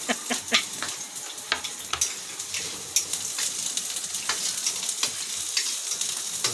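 Garlic sizzling as it sautés in a pan, with onions to follow; a steady, close frying hiss with small crackles and occasional stirring scrapes, no talking.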